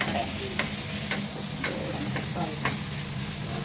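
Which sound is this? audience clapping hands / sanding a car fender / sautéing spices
sautéing spices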